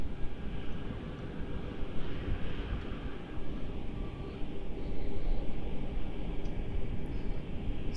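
A Singapore airliner lines up on runway 34 at Melbourne Airport, a loud, steady, low jet-engine rumble and whine heard from a distance, rising slightly toward the end.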